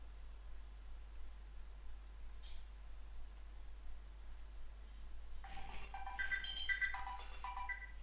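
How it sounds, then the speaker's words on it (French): A faint telephone ringtone in the Farming Simulator 2013 video game begins partway through, repeating a short electronic tone pattern over a quiet background hiss. "Excusez-moi, c'est le téléphone."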